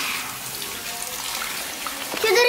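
At a hairdresser's sink, warm water runs through hair as it is rinsed: a steady, close splashing hiss, and a voice breaks in briefly at the end.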